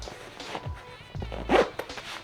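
A packing bag's zipper being pulled closed in a few quick rasping strokes, close and fairly loud, with soft handling rustles around it and no talking.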